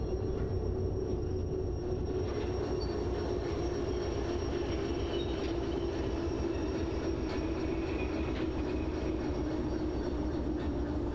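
Train wagons and a locomotive rolling in the Derail Valley simulation game: a steady, loud rumble with rail noise and faint high squeals, continuous throughout without a break.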